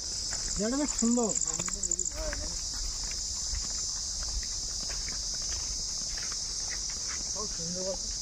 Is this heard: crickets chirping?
yes